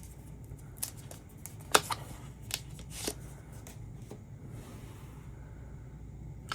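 K-pop photo cards from a STAYC collection handled and shuffled up close, soft papery rustling with several sharp flicks and slaps in quick succession, then quieter sliding.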